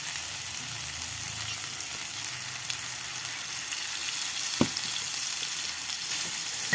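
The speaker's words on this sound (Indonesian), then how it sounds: "Lalu masukkan 2 lembar daun salam dan serai yang sudah dimemarkan ya. Kemudian ditumis sebentar." Bay leaves and bruised lemongrass sauté in hot oil for sambal oncom, a steady close hiss of frying with one sharp clink of a utensil against the pan.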